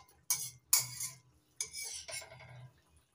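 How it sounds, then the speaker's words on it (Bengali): A vegetarian egg-style curry stirred in a pan after chopped coriander goes in, four distinct scraping clinks of a spoon against metal, close and fairly quiet with short pauses between them. "হালকা একটু নেড়ে নিচ্ছি।"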